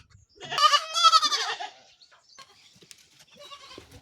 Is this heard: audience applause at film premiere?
no